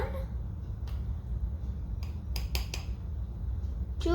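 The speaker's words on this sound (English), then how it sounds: "using a teaspoon measure, I'm going to put 3 teaspoons of cocoa powder" A metal teaspoon measure clinks against a pot while cocoa powder is added off the heat, giving a few light, close taps over a low steady background hum.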